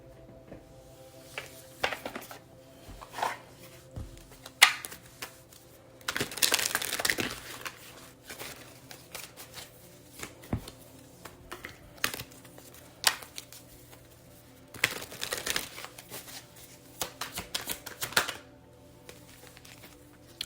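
Tarot cards are shuffled in quiet, papery riffling bursts mixed with scattered soft taps and crinkles, with no talking.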